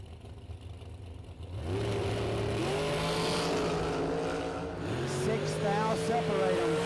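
Drag race cars at a bracket racing event roar with engines building and holding a loud, steady drone, revving through shifting pitch after a quieter start.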